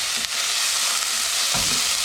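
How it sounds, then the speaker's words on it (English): Chopped onions sautéing in a pan with whole red chillies for an Indian asparagus, potato and coconut thoran: a steady, bright sizzle of frying with a brief stir clatter near the end. "then add in chopped onions, saute it"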